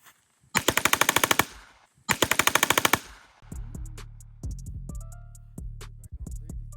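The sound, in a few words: firearm shooting in fully automatic mode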